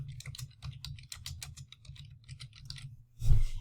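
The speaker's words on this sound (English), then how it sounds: "and I can type on it" Typing on a computer keyboard while writing a sticky note in Google Jamboard, a quick, close run of light key clicks with a louder thump near the end.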